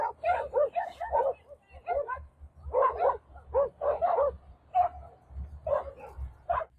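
A pack of dogs barks and yips in bursts while chasing a man, the sharp calls coming in irregular clusters at moderate distance over a low background rumble.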